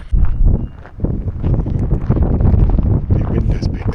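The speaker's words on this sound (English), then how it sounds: "The wind has picked up considerably since this morning." Strong wind gusts buffet the microphone outdoors in the mountains at sunset, a loud continuous low roar with rumbling surges throughout.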